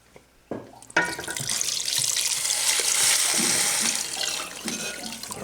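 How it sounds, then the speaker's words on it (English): Water pours steadily from a tap into a pot of white chicken chili, starting after a few soft clunks and running loud and close in a continuous splashing stream. "And then we're going to add some more water."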